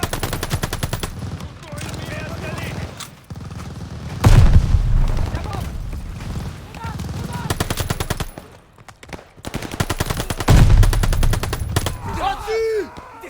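Sustained machine gun bursts in the Call of Duty Vanguard video game, Operation Tonga mission, loud and continuous with heavy low-end gunfire and intermittent booms, shouted commands over the shooting.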